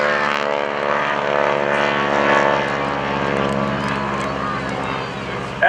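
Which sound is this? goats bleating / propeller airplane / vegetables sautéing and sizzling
propeller airplane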